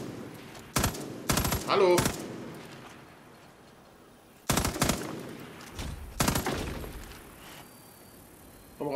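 Short bursts of loud gunfire ring out in the video game Far Cry New Dawn on PS4, two clustered volleys separated by quieter stretches, with someone briefly speaking between shots.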